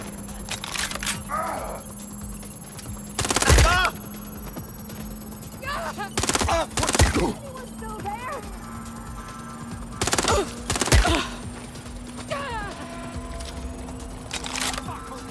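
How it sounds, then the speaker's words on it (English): Bursts of gunfire ring out in the video game Watch Dogs: Legion, with several separate volleys of sharp rapid shots. Between the shots there are quieter stretches with voices and a steady background hum. "Deploying firearms."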